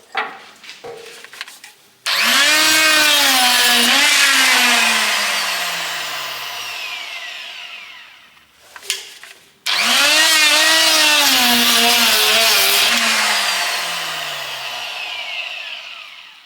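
Loud power deburring tool working the inside of a boiler pipe, in two long whining bursts that sag in pitch as the tool bites into the metal, with a short gap between them.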